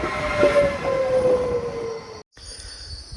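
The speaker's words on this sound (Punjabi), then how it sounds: "ਗੱਡੀ ਆ ਰਹੀ ਹੈ ਟ੍ਰੇਨ ਬਿਲਕੁਲ ਲਾਗੇ ਪਹੁੰਚ ਗਈ ਆ" A train in Italy rolls into a station close by with a rumbling hum and a long, high metallic squeal of wheels braking, fading briefly before the rumble resumes.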